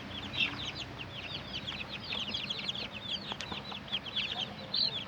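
Many two-week-old chicks peep continuously in high, rapid chirps, a dense overlapping chorus close by with a low background rumble.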